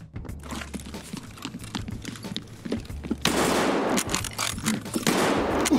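Gunfire in the shooter game Escape From Tarkov: rapid, loud bursts of shots in quick succession, growing denser and heavier in the second half, with no talk.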